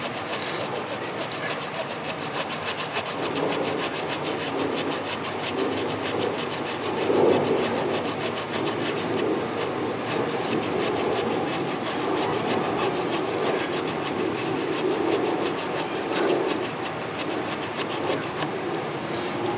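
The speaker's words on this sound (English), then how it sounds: "the saw on this thing is going to be 4 inches, so you have all that cutting space for woodworking" A small saw with a 4-inch blade cuts through wood for woodworking, giving a continuous rasping, grinding noise that holds steady and fairly loud for about twenty seconds, with no voices over it.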